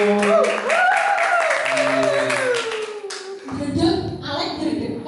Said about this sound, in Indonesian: Mana tepuk tangannya ada di studio?